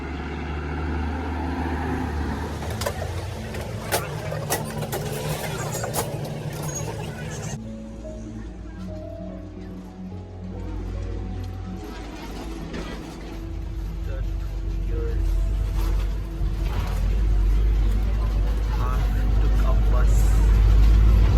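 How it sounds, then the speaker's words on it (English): Mumbai city bus ride: a steady low engine rumble and road noise under a voice talking, with the rumble growing heavier toward the end. "So finally I'm taking a bus."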